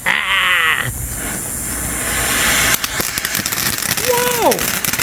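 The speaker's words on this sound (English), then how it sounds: "are you ready to light Crash Course by TNT Fireworks?" A Crash Course consumer firework from TNT Fireworks is lit and fires, with sharp crackling bursts and popping shots following a whistling, squealing launch; an excited voice rises over the effects.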